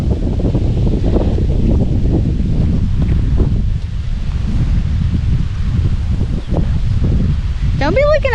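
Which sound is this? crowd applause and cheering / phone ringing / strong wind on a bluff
strong wind on a bluff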